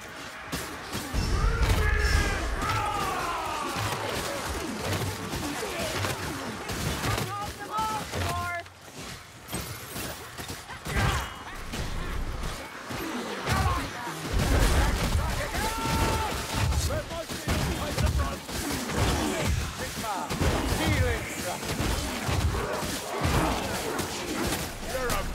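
Bursts of gunfire and crashing combat noise from the Warhammer Vermintide video game, dense and continuous, mixed with shouting voices and talk throughout.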